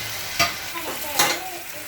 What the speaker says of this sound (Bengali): এখানে মাছটা কষানো হচ্ছে, ভালোভাবে কষিয়ে নিয়ে উঠাই রাখবো মাছটা।